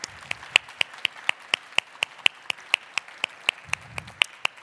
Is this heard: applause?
yes